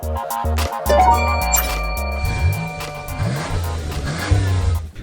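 A Lexus ES300h F Sport hybrid pulls away and gathers speed, its engine note rising and shifting in pitch in uneven steps, heard close from inside the car with no talking.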